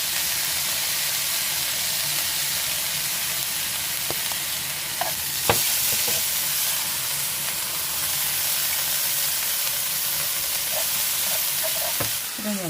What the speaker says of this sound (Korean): 고사리도 가진 양념을 해서 볶으면 됩니다